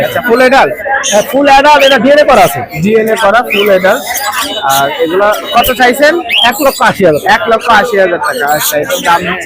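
Dense chorus of squawks and chirps from caged birds, including pet parrots and lories, at the Mirpur 1 bird market, a busy continuous mix under steady nearby human chatter.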